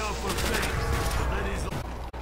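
Rapid gunfire in Call of Duty Black Ops zombies mode, dense bursts and fusillade-like shots crowding the whole moment, with a voice talking underneath and a brief sharp drop near the end.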